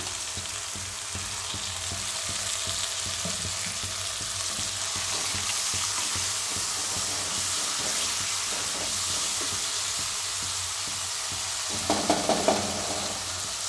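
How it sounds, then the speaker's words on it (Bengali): Cashew masala spices, ground coriander and cumin with a splash of water, sizzle and hiss steadily in a pan while being stirred, ending in a few louder scraping clatters. "একটু সামান্য জল দিচ্ছি, মশলা ধোয়ার জলটা, যাতে মশলাটা না পুড়ে যায়।"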